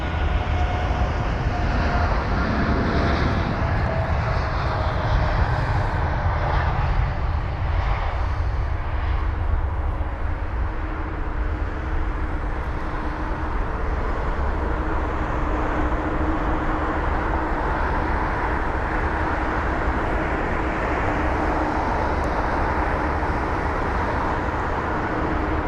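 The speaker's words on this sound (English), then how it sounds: "And off that goes the Air Canada aircraft." An Air Canada Boeing 787-9 Dreamliner takes off at London Heathrow, its engines giving a loud, continuous roar that stays steady for the whole stretch.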